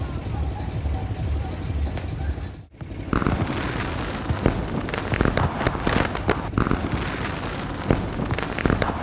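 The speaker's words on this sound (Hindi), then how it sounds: "This is the fire works that I was talking about." Fireworks bursting over the ghat during Dev Deepawali in Banaras, a dense run of crackling pops and booms after a brief lull, with crowd noise and voices throughout.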